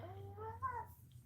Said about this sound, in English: if he does not stop meowing